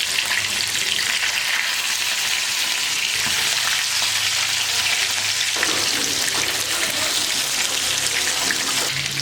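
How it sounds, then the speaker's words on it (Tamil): Fish sizzles and crackles loudly in hot oil, a dense, steady frying hiss with occasional louder pops, no talking. "மீன் ரெண்டு பக்கம் திருப்பி போட்டு நல்லா வெந்துருச்சு"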